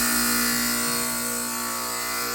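Ironworker machine just switched on, giving a loud, steady electric hum with constant tonal drone and broadband whir, running continuously and close with no talking.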